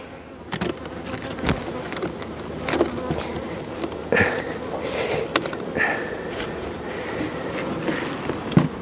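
Honeybees buzzing around an opened hive as its boxes are lifted off one by one, a steady close hum with scattered sharp knocks and clatters from the handling, and no voices.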